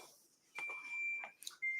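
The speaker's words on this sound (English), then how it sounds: "hopefully we aren't getting crazy alarms too much longer" A smoke or fire alarm gives a few short, high electronic beeps, fairly close and separated by brief gaps, with no talk over them.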